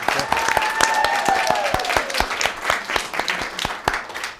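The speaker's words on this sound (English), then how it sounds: "So let's give them a round of applause" Applause from attendees at a school district board meeting honoring parents, a lively run of clapping with some individual sharp claps standing out, plus a faint whistle-like tone partway through.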